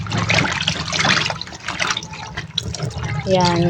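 Running tap water splashes over vegetables being rinsed at a home kitchen sink while pork nilaga cooks, a steady close wash with a brief remark spoken over it and a stronger gush near the end.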